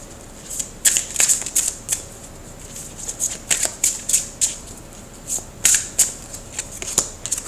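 Romance Angels oracle cards being shuffled, close and crisp, in a run of quick riffling bursts with short pauses between, ending with a few lighter slaps as cards are drawn.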